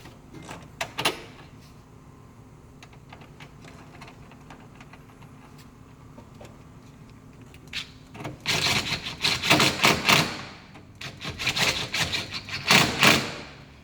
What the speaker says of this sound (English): This gun has an adjustable torque setting, so I have it knocked down so I don't over torque it.